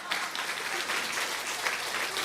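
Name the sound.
congregation applause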